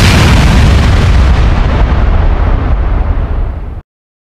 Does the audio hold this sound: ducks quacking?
no